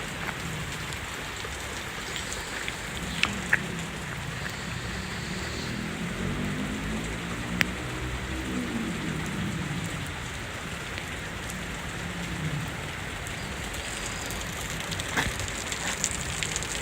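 Steady rain falling during a Boston thundershower, an even hiss of drops pattering on surfaces nearby, with a few sharper drips standing out and no talking.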